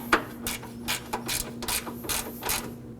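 A hand ratchet clicks in short bursts while snugging a 10mm bolt on an AC condenser and receiver drier assembly of a 2014-2020 Acura MDX, close and crisp, several quick pawl rattles in a row.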